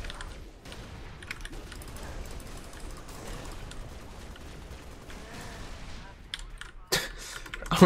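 Sporadic gunfire and mechanical weapon clatter in a Halo: Reach campaign battle, fairly quiet and continuous, with a sharper louder burst near the end; someone talks over it.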